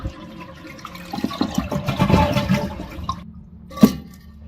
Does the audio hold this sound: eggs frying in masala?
no